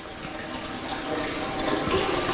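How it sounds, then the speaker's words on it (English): Liquid gushes steadily out of a tipped 200-litre drum on a pneumatic drum tipper, a close, continuous splashing pour that swells slightly toward the end. "I'm always amazed by how much literage is in a 200 litre drum when you're tipping it out."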